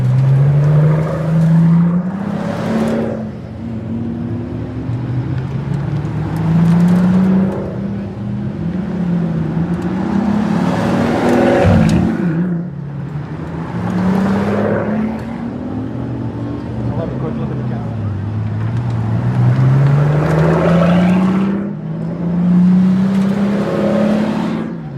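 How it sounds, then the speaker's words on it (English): A line of Bugatti cars pulls away one after another outside an exotic-car gathering on Cannery Row during Car Week, engines rising and falling in repeated waves of acceleration as each passes close by, loud throughout. "All the Bugattis are lining up right now to go to Exotics on Cannery Row"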